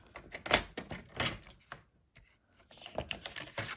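A paper cutter trims scored cardstock for an easel card, giving close, quiet clicks and slicing scrapes in short bursts with a brief pause midway, and nobody speaks.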